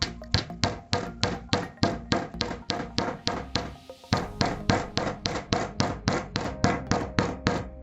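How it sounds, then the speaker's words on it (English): Hammer blows flatten and toughen the wire frame of a holly napkin ring, struck in a steady rapid rhythm of about thirty sharp metallic taps with one brief pause midway, close and clear with no talk. "So you can see the hammering is flattening it out nicely,"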